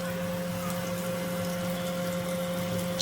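Tilapia fish pieces coated in semolina frying in hot oil, with a constant close sizzling hiss over a steady low hum, unbroken throughout.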